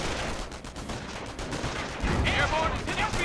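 Recoilless rifle fire and battle noise in the Company of Heroes 1 strategy game, with bursts of gunfire and a couple of heavier booms over a busy combat backdrop, mid-distance and fairly loud.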